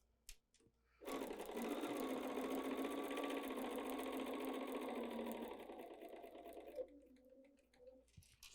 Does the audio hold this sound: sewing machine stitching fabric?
yes